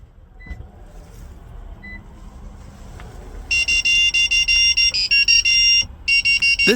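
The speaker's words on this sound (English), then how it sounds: "wait for a few seconds until you hear the beeping sound indicating programming is successful." Toyota RAV4 of the 2009–2018 generation chiming a rapid series of short, high electronic beeps after key fob programming succeeds, loud and close, following a few seconds of quiet cabin hum.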